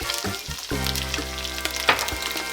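Pork spare ribs stir-fried in a wok with a little oil, scallion, dried chili and white sesame: a steady, close hot-oil sizzle with a few soft bumps of the food being turned.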